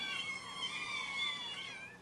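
A cat that has grown irritable after years living on a cat tower gives a drawn-out, wavering meow, fairly faint and alone, with no talking over it.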